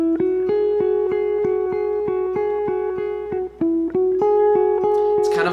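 Guitar plays the third part of the repeating lick loop from a song, with bright picked notes in an even rhythm and open strings left ringing as a drone.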